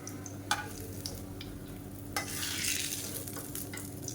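Raw banana pieces deep-frying in hot oil for a vegetarian fish fry, with a continuous sizzle and a few sharp metal clinks of a ladle against the pan, heard close up and without talk.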